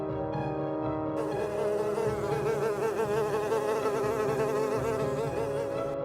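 Houseflies buzz in a close, continuous drone with a wavering pitch that swells slightly partway through, steady throughout with no other sounds.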